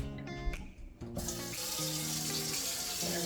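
Tap water pours steadily into the bottom tray of a steamer, a continuous rushing hiss that starts after a few brief clanks and runs unbroken to the end.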